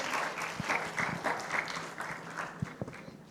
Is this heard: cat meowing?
no